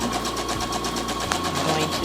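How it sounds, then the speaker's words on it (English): A domestic sewing machine stitches fabric toward a corner, its steady fast mechanical whir running continuously and close, with a brief pause in the motor near the end. "I'm going to sew to the corner."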